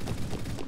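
Gunfire in a Roblox shooter game crackles in a quick, fairly faint cluster of overlapping shots, a brief rapid burst with no voice over it.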